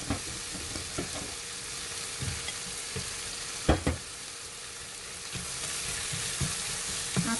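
Goat meat for goat curry cooks in a pan, giving a steady soft sizzle with occasional scrapes and knocks of stirring, fairly quiet and without talk.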